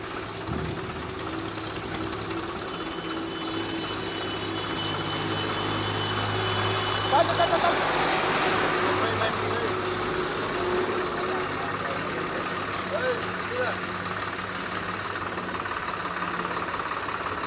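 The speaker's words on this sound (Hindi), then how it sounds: "अगला तो ट्रैक्टर उतारन लग गया" A new tractor's engine idles at a Swaraj dealership during unloading, a steady low rumble that swells slightly midway, with voices talking faintly beneath it.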